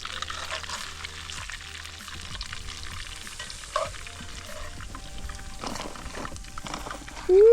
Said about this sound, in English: we've got to get this fish in, bang the lid on, and just let it cook